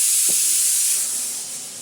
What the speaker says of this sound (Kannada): cooker CG ಹಾಕೈತೆ